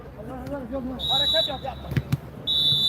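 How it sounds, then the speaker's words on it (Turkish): A referee's sharp, sustained whistle blast sounds at a match, stops, then sounds again near the end, over crowd chatter and a few loud thuds. "Hakem düdüğünü çalıyor"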